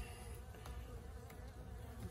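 Honeybees in an observation hive hum in a soft, steady drone close by, the buzzing swelling slightly now and then with no talking over it.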